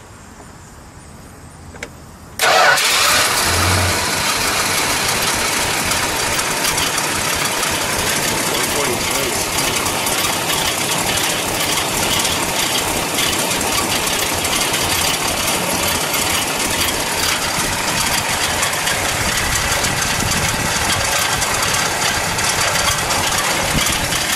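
A 1968 Plymouth GTX convertible's 440 V8 fires up abruptly after a brief quiet moment, then settles into a loud, steady, rumbling idle that continues close by, with wind noise and people talking over it.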